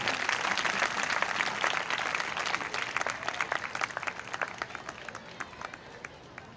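Applause from the congregation at a Catholic church in Sargodha during a pilgrimage mass honoring the archbishop, dense sustained clapping from many people that thins out toward the end, somewhat distant and reverberant.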